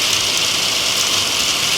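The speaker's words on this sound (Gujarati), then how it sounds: "જોરદાર વરસાદ." Heavy rain falls steadily as a dense, continuous hiss close by, with a faint low rumble beneath and no voices.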